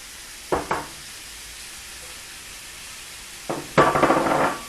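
Capsicum hitting a hot pan for a quick stir fry, two short bursts of sizzling and clattering a few seconds apart, the second louder and longer, over a quiet steady background.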